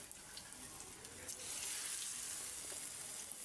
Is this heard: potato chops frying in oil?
yes